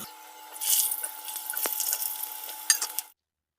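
Potatoes dropped into hot oil in a kadai fry with a broad crackling sizzle that runs steadily for about three seconds, broken by a few sharp clinks of a metal utensil near the end before falling silent.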